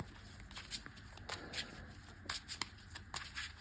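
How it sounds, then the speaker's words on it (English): A Yu-Gi-Oh card deck being shuffled by hand, heard close as a series of soft, quick riffling and flicking bursts at an irregular pace. "And then we will shuffle"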